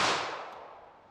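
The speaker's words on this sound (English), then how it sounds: "let's hit that with our 95 grain semi wad cutter 32 H&R Magnum" A single sharp gunshot from a snub-nosed revolver firing a 95-grain semi-wadcutter .32 H&R Magnum round, one loud report with a decaying tail and no talk.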